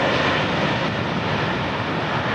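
United Airlines Boeing 777-200ER takes off from runway 27R, a loud, dense continuous jet roar filling the whole stretch without a break.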